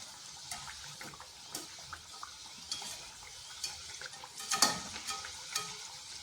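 Potato and onion snack frying in oil with oil spooned over the top, a quiet crackling sizzle broken by scattered louder spattering pops and stirring clicks.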